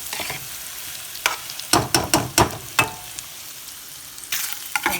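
Red beans with bacon grease in a crock pot are stirred with a utensil, making a run of sharp scraping, sloshing strokes over a soft background sizzle, loud and close.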